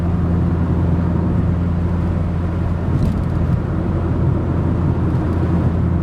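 A Ford Probe cruising down the road at 65 mph on cruise control, heard from inside the cabin as an even, continuous engine and road drone with a faint brief rattle midway.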